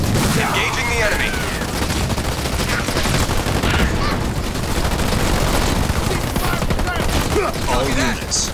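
A Halo Wars 2 battle with Marines under fire: dense, continuous gunfire crackles and booms throughout, loud and busy, mixed with shouted unit voices and radio chatter.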